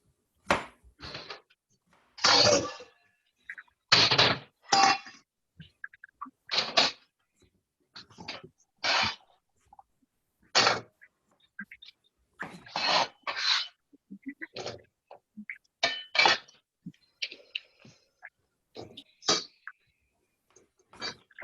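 Dishes are washed at a sink: short, irregular bursts of splashing water and clattering, with quiet pauses between each burst.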